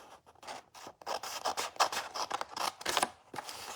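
A square of paper is cut for Stampin' Up card making, with a run of close, quick rasping snips and scrapes in an uneven rhythm and no one talking.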